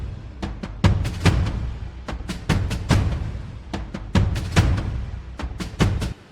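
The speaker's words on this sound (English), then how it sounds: "FL Studio that has some marching band loops in the FL Cloud" A marching band drum loop from FL Studio's FL Cloud library thumps out in a steady pattern, with sharp snare and bass drum hits over a low rumble, fairly close and alone.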